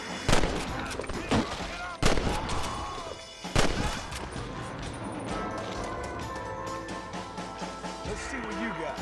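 Gunshots in Red Dead Redemption, three sharp reports spaced a second or more apart early on, followed by softer clattering and rolling game ambience, with voices talking over the action.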